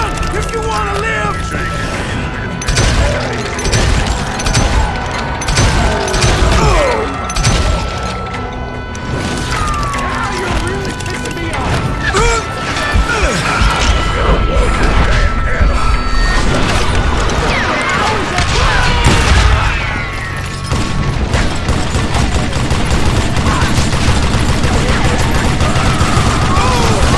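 Gunfire in the Western shooter Call of Juarez: Gunslinger, with a train robbery in progress: dense bursts of shots, crashes and impacts over about half a minute, loud and busy, heard under ongoing talk.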